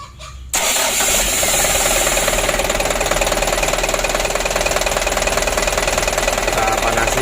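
A rebuilt 2007 Mitsubishi Canter truck's diesel engine cranks and catches after half a second of quiet, then settles into a loud, close, steady rattling idle.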